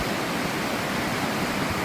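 Rushing water at the top of Turtletown Falls, a steady broadband roar that holds evenly throughout the short stretch, close and unbroken, with no voices.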